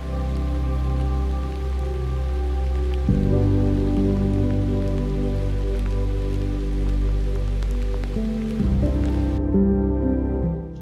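Steady rain falls over open lowland ground in Scotland during a roe deer stalk, an even wet patter holding under a low background hum until it thins out near the end.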